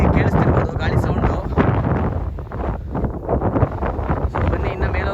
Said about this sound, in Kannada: ನಿಮಗೆ ವಿಡಿಯೋದಲ್ಲಿ ಕೇಳಿಸ್ತಿರ್ಬೋದು ಗಾಳಿ ಸೌಂಡು